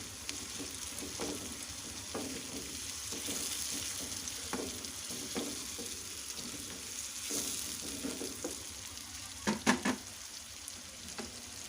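Chopped tomatoes sizzle steadily in oil in a pan for masala egg fry while a spoon stirs them with repeated soft scrapes, ending in a few sharper clinks near the close.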